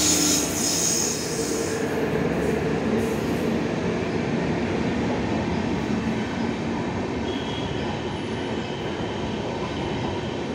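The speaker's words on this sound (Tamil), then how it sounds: "so express going by little bit pastor" Trivandrum Mail express train passing Kallayi railway station at night, a steady loud rumble of wheels and carriages rolling by throughout with a faint squeal, no voices.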